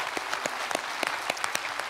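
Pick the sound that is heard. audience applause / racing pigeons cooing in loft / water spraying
audience applause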